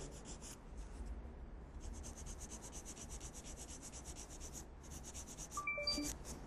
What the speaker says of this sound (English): I'm going to use a 150 grit file, or you can use a 180 grit file